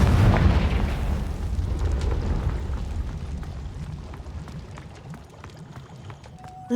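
A Confringo fire spell explodes in the Hogwarts Legacy video game, a loud booming burst up front that rolls into a long, slowly fading rumble with scattered crackles.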